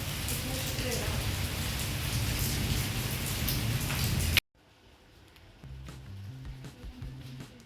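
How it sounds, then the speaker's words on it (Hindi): Heavy rain pours down during a night storm with strong wind, a dense, loud, steady hiss that drops away abruptly partway through, leaving quieter rain under a low tonal hum. "रात के 1 बजे का टाइम है और फुल आंधी चल पड़ी थी, बिजली चमक रही है और फिर स्टार्ट हो गई थी बारिश"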